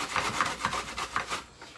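A Granny Smith apple's skin is rubbed against a grater in quick rhythmic strokes, a close, dry rasping scrape repeating about six times and fading at the end.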